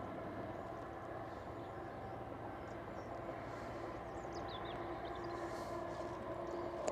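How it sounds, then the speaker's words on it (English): Distant train passing on a countryside autumn walk: a faint, steady low rumble and hum that holds throughout beneath soft outdoor ambience, with no one speaking. "Can hear a train going past."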